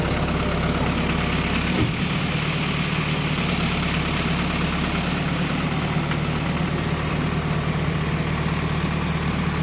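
A tractor engine idles steadily throughout, a constant low rumble with even vibration and no speech, close and fairly loud.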